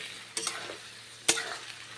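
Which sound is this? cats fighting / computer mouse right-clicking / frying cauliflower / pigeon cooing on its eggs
frying cauliflower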